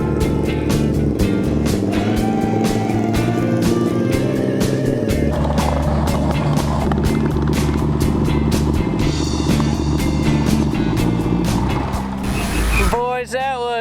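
A racing lawnmower engine loudly drones and revs on a victory lap at a dirt track in 12 Mile, Indiana, its pitch wavering and shifting close by for the whole stretch before cutting out near the end.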